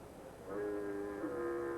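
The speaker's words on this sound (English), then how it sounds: "Foghorn. Fog's coming over the Golden Gate Bridge." A foghorn sounds near the Golden Gate Bridge as fog rolls in, heard as a steady, loud tonal blast. It starts about half a second in and holds for the rest of the clip.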